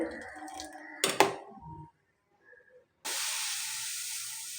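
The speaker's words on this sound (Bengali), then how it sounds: "আমি জাল বসিয়ে দিয়েছি দুধটা ফুটছে" Half a litre of milk boils in a pan on the stove: some muffled clatter, a short quiet gap, then a steady close hiss of steam and bubbling that carries on to the end.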